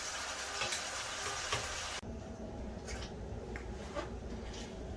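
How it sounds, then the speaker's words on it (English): Steak juices reducing in a pan give off a steady, soft sizzle and crackle throughout. An abrupt change partway through leaves a quieter simmer with scattered pops and clicks, and no one speaks. "let the steak reduce. Let the juices in it reduce."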